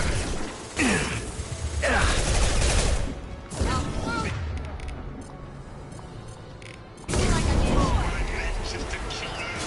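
Gunfire and clattering weapon mechanics in the video game Mass Effect 2, loud bursts of shots arriving in several intense stretches, mixed with in-game voices calling out during combat.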